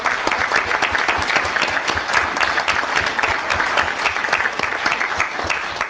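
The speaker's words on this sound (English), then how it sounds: "So what do you say, another round of applause for these three gentlemen?" An audience at a council-style meeting claps steadily, a close, continuous wash of many hands applauding without talk.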